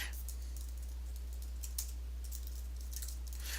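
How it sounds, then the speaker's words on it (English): Keys on a computer keyboard clack in quick scattered bursts as a forum reply is typed, faint close-up taps over a steady low electrical hum, with no voices. "if you want to reply to this thread right here, you just type your response here"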